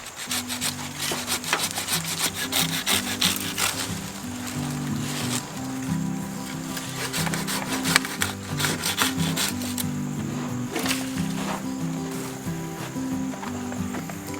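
A saw cuts through a tree branch in steady, rhythmic back-and-forth strokes, close and moderately quiet, continuing for several seconds with no talking.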